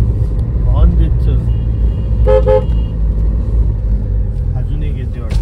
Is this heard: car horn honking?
yes